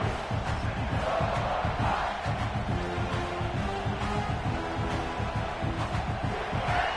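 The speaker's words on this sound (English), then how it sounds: "This crowd trying to make life miserable for this offense." Stadium crowd roaring at a South Carolina vs Alabama college football game, a dense sustained wall of noise with yells rising through it, constant and loud throughout.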